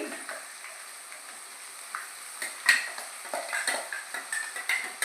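Masala frying in oil for a fish curry (chepala pulusu) in a pan gives a soft, close sizzle broken by scattered spoon scrapes and clinks against the pot.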